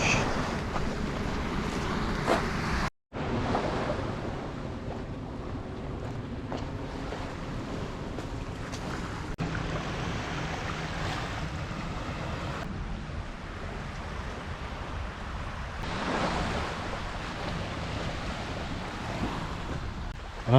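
Ocean waves wash onto a beach on the Isle of Wight coast, a steady rushing surf mixed with wind buffeting the microphone, with one brief dropout near the start.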